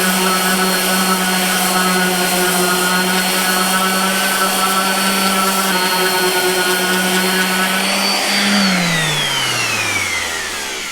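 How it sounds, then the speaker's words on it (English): A random orbit sander runs steadily on a walnut charcuterie board, a loud constant whir with a strong hum for about eight seconds, then the motor winds down and its pitch drops as it stops. "run over it with my random orbit sander"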